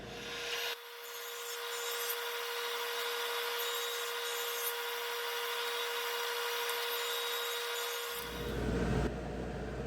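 A power saw rips wooden strips for a French cleat in a workshop, a loud, continuous whining cut lasting about seven seconds before the blade winds down, with no talking.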